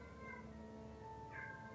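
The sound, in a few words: cat meowing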